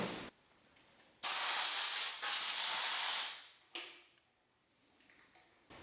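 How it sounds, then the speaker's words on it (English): Air compressor nozzle blowing dust out of a burned desktop PC, loud hissing blasts of compressed air in two long bursts with brief shorter puffs around them, close to the listener. "I'm going to dust this out with an air compressor"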